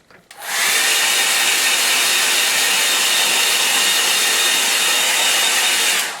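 A hair dryer blows steadily on a watercolour painting, its loud, close whooshing roar starting abruptly and holding constant for several seconds with no talk.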